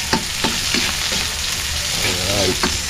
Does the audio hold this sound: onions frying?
yes